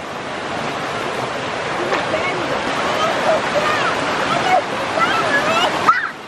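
A creek swollen by heavy rain runs fast past a creek crossing, a steady loud rushing wash of water with wind noise that fills the whole stretch.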